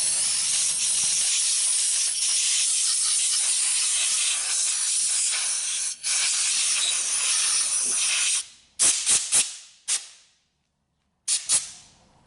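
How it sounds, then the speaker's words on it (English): Brake parts cleaner and then compressed air sprayed onto a Briggs and Stratton engine carburetor: a loud, close, continuous hiss for about eight seconds, followed by several short sharp bursts of air with brief gaps between them, no talking. "I'm going to take some brake parts cleaner, and we're going to kind of clean around it, and we're going to blow it off with some air"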